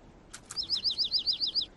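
A small cartoon bird gives two short chirps and then a quick, even run of bright, high tweets, close and clear over a quiet background.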